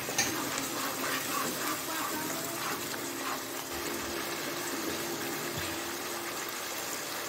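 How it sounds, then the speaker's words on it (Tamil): Water poured into a cooking pan, a steady gushing splash and sizzle that runs continuously at moderate loudness, with no talk over it. "அது கூட லைட்டாக வாட்டர் ஆட் பண்ணிக்கிட்டு"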